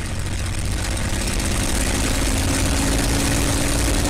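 A propeller airplane, a taildragger facing a right crosswind, runs its engine up to 2300 RPM before takeoff, giving a loud, steady, dense drone with a low hum that stays constant and unbroken throughout.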